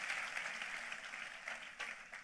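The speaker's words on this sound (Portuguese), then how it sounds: "Vamos aplaudi-lo" A church congregation applauds, a soft, steady wash of many hands clapping that stays fairly distant and even with no talk over it.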